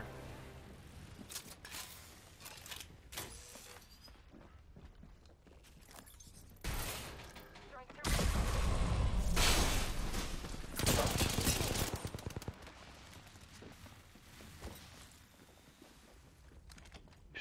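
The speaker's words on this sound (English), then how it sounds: "Shooting behind you, Gov." Gunfire in the shooter game Apex Legends, with bursts of rapid automatic fire and single shots that swell loud in the middle, alongside footsteps and mechanical clatter, with no talk over it.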